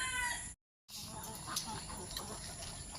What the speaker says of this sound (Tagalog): papakita na po namin sa inyo ang mga alagang manok ni Makoy